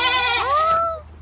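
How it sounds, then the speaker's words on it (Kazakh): A goat bleats once, loud and close, in a village setting, with a wavering cry that trails off. "Ешкілер."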